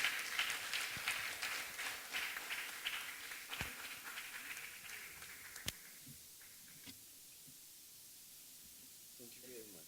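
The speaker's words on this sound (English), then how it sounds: "A round of applause for him, please." An audience at a customs brokers' annual general meeting in Koforidua, Ghana claps in a moderate wash of applause that thins out and fades after about six seconds, leaving quiet room tone and a few faint sounds.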